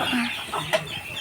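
Farmyard chickens cluck in short, close bursts at a rural homestead in Bangladesh, with a brief louder squawk near the end.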